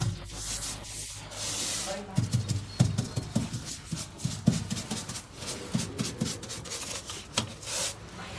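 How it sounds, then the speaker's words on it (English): A viscose-haired paint roller rolls over a smooth, shiny cabinet surface at a school, giving a soft, close rubbing swish in uneven strokes with a few louder pulses and no talk. "this light hair it has, made of viscose, so a special hair, can slide the roller perfectly over surfaces and does not leave marks"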